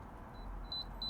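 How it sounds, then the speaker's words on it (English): Small electronic devices emit short high-pitched beeps in a repeating pattern, faint and thin over a low background rumble, with a few bursts close together. "Beep, beep, beep, beep. Beeping away."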